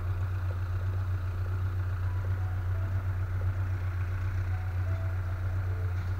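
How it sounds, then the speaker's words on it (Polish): A steady low engine drone idles on without change, a tractor rumbling at a moderate distance with no speech over it. "Jeździ ciągnik."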